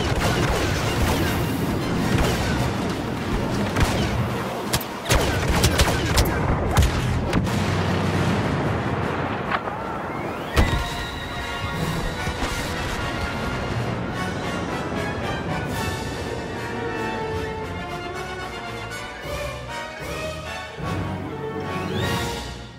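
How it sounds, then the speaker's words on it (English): Dense, loud battle din from a Star Wars Battlefront match: booming blasts and rapid gunfire crackle nearly nonstop, with a heavy impact near the middle and a steady roar beneath, no voices. "Firing at will."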